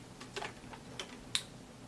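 Light typing on a keyboard, several scattered soft clicks and one sharper tap near the end, close up in a quiet room with no voices.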